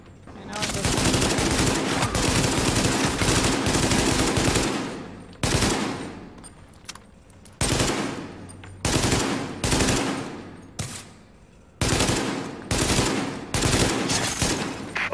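Sustained bursts of automatic gunfire from the video game The Division, loud and dense, firing in long volleys broken by short pauses, with no talking over them.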